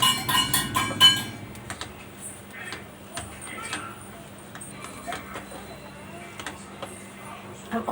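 A spoon clinks and scrapes briskly against a pan while potato stuffing is mixed with masala for aloo bonda, with a loud flurry of clatter at first that settles into sparse, softer taps.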